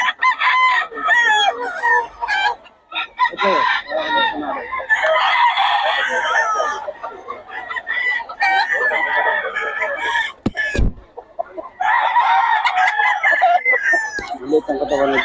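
Roosters crow repeatedly and hens cluck in a busy poultry yard at Bocaue, Bulacan, the calls loud and close, layered and overlapping, with a brief gap near the end before the crowing resumes.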